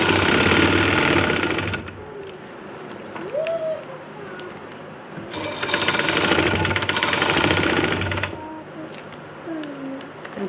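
A sewing machine runs in two bursts while stitching a trouser seam. The first burst is loud and lasts about two seconds. A quieter gap with faint background follows, then a second burst of roughly three seconds at close range.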